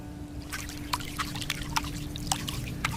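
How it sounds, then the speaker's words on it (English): Fast, erratic water drips land in quick irregular plinks over a low steady hum, with no other sound around them. "Suddenly, the dripping sound returned, but it was different this time."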